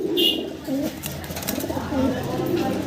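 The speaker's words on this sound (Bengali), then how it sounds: "দেখেন নরের ডাকটা একটু দেখা দিচ্ছি, খুব হেলদি। দেখেন কীভাবে ডাকে" A healthy male fancy pigeon coos close by, repeated soft throaty rolling calls in quick succession over a faint background hum.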